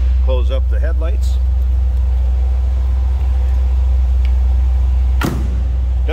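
Exhaust rumble of a 1971 Chevrolet Corvette coupe with a 350 V8 and newer mufflers, a deep steady idle drone held close and constant, with a brief voice at the start and a short sharp knock near the end.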